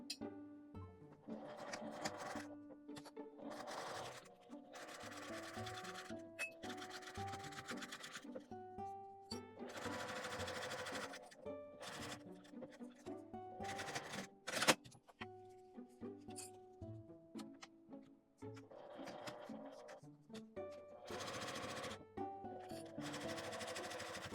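A sewing machine stitches a lined mini zip pouch, running in steady bursts of rapid mechanical stitching separated by short pauses, close and fairly quiet, with no talking.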